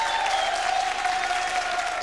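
Steady studio audience applause for the guests at the close of a French television music show, dense and loud, with a soft sustained musical tone running beneath the clapping.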